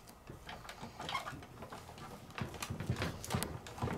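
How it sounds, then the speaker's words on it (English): A Big Shot die-cutting machine feeds an XCut embossing folder through its rollers, giving a steady run of rhythmic clicks and knocks that grow louder and more regular toward the end. "Bring back over my Big Shot machine, put it down, and send it on through."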